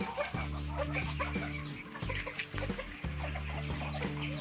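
Japanese bantam chickens cluck nearby in a repeating series of soft, rhythmic, low clucks, with a few higher chirps mixed in, fairly quiet and with no talking.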